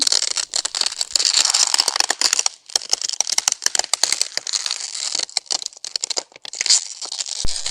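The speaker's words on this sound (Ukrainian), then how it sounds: "Хруст гілки." Dry crackling and snapping of a branch in a winter forest comes as dense bursts of brittle cracks, close and fairly loud, thinning into scattered snaps near the end.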